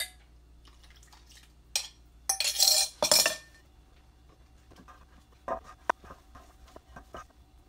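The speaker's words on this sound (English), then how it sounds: "And we'll mix this into the dry ingredients." Wet ingredients being worked into dry ones for hot cross bun dough, heard as a few scattered clinks and scrapes of utensil against bowl, with two louder bursts of clattering mixing early on, otherwise quiet.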